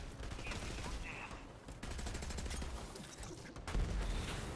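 Sustained automatic gunfire from a weapon in the Borderlands 3 video game, dense rattling bursts that carry on almost without break, with a heavier blast near the end.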